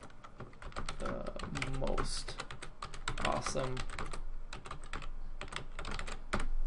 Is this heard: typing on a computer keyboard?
yes